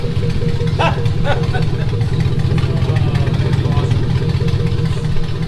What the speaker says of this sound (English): There's no muffler! It's gone!